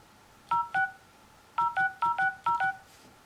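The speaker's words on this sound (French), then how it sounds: "Donc je vais émettre un appel." Touch-tone dialing beeps from an Acer Liquid Z3 smartphone keypad: two quick tones, a pause, then six more in a brisk even rhythm, loud and close with nothing else over them.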